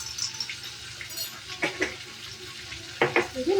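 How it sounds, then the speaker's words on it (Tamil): Ingredients for mango rice are sautéed in a pan, a soft, faint sizzle broken by a few scraping stirs and utensil clinks against the pan. "இது நல்லா வதக்கிடணும்."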